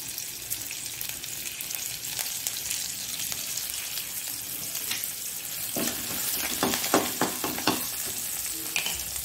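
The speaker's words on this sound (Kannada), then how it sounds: "ಸ್ವಲ್ಪ ಫ್ರೈ ಆಗುವಾಗ ಸ್ವಲ್ಪ ಕರಿಬೇವಿನ ಸೊಪ್ಪು ಒಂದು ಹಾಕೊಳ್ತೇನೆ" Masala preparation for a Mangalore-style prawn coconut-milk gravy fries in a pan as curry leaves are dropped in, giving a constant close sizzle that flares with louder crackling spatters toward the end.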